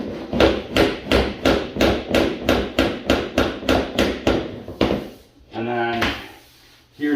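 Vinyl flooring planks being tapped into place in an old home: about fifteen evenly spaced, close, sharp knocks in a steady rhythm, followed by a brief pause and a short scraping or rattling sound.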